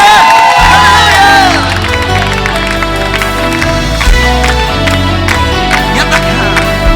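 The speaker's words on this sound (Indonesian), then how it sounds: "Lagi berikan tepuk tangan bagi Yesus Raja kita." A church congregation claps and cheers loudly over a full band playing worship music, a dense crowd roar blended with sustained instruments throughout.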